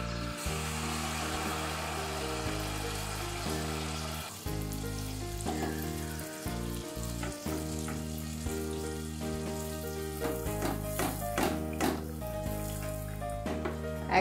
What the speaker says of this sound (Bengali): দেখুন আমি একটু ছোট ছোট করে মালপোয়াগুলো ভেজে নিচ্ছি